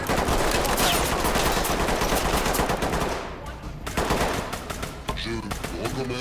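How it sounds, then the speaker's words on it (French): Heavy sustained gunfire fills a warehouse firefight in the tactical shooter Ready or Not, with dense overlapping automatic bursts and single shots, loud and continuous, briefly thinning midway before the rapid shooting resumes, under occasional radio-style voices. "énormément de tirs nourris"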